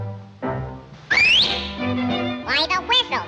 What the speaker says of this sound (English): Why the whistle, Sizzle?